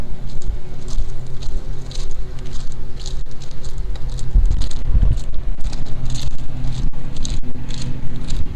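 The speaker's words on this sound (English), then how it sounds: "It's actually sprinkling a little rain on us." Light rain sprinkles outdoors on a farm, giving a steady soft patter of drops over a low continuous rumble, with no voices.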